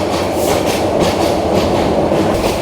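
Sonar Bangla Express passenger train running near Bhairab, a loud steady rumble of wheels on rails with rhythmic clickety-clack, heard from inside, with no voices.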